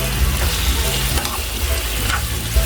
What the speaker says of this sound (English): So give it a stir fry.